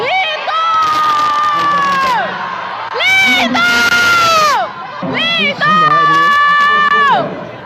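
Girls in a show crowd screaming a singer's name in long, loud, high-pitched chanted bursts, three surges separated by short breaks, close and dominant.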